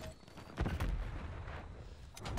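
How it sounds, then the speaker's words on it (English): A thermite grenade going off in a Call of Duty match, a short burst of sharp, gunfire-like cracks with a low thump, fairly faint under a busy, rumbling game mix. "Oh, that's a fucking goddamn thermite."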